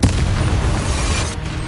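A Confringo fire spell cast during a duel in a Harry Potter video game unleashes a loud, sustained explosive roar that rumbles steadily, then thins out slightly near the end.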